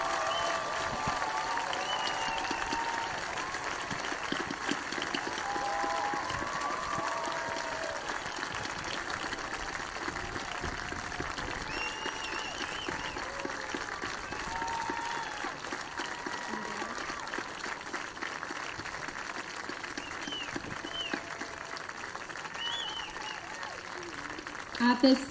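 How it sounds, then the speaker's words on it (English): Audience at a middle school graduation ceremony for an eighth grade class applauding, a sustained dense patter of many hands filling a hall, steady and moderately distant, with a brief louder burst at the end. "Everyone, please join me in a round of applause"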